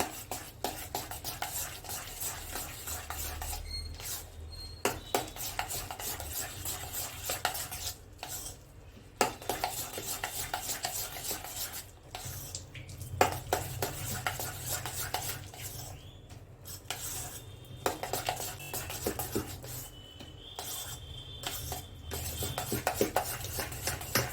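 A spoon stirring milk cream in a bowl, steady scraping and clinking of metal against the dish, repeating in quick rhythmic passes with brief pauses, close and fairly quiet, with no talk.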